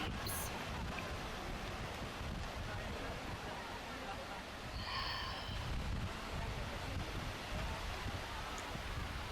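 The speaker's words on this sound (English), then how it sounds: "Match your breath" A steady, continuous roar of surf washing against the shore, with no distinct breaks between waves.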